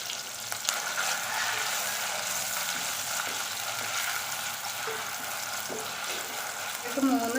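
Ginger garlic paste and crushed shallots are stirred in a frying pan, giving a steady close sizzle with soft scraping stirs throughout. A faint voice can be heard toward the end.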